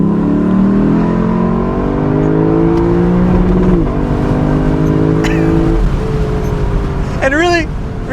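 A Lexus LC500 V8 in manual mode accelerates in second gear, a deep engine note rising steadily and loud from the cabin before easing off, with someone speaking over the engine throughout.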